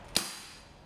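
A single sharp crack from a Kjworks MK2 dual-power full-metal toy gun charged with green gas, one isolated shot that decays quickly into a quiet background.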